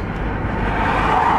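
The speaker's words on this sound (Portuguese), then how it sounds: "Olha lá, mais um caminhão, vamos ver." A truck passes on a highway during the road transport of a sailboat on a trailer, its steady engine and tire roar broad and continuous, swelling slightly toward the end.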